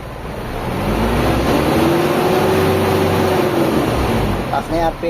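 A car engine, just repaired after a speed sensor fault, drones steadily nearby, its pitch climbing as the RPM rises and then easing back, with a brief voice near the end.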